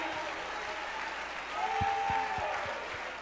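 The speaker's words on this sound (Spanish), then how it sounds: "Somebody clap your hands and shout hallelujah" Church congregation applauding and shouting during a sermon, a steady wash of clapping and crowd noise at moderate distance, with a raised voice calling out over it.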